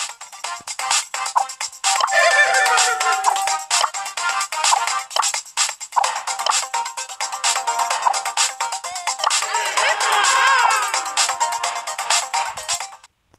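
Tara's new creepy, ghost-like voice from the Brawl Stars mobile game plays as warped, gliding electronic utterances in bursts with brief gaps, loud and alone without any talking over it.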